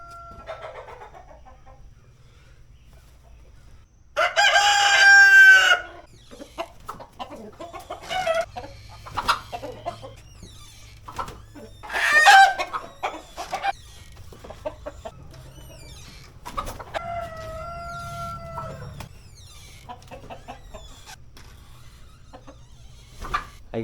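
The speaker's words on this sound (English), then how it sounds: "I got all the chickens in here. A 1 rooster and his 9 hens." One rooster and nine hens in a backyard coop cluck steadily, with loud bursts of crowing breaking in twice amid scattered squawks and rustling.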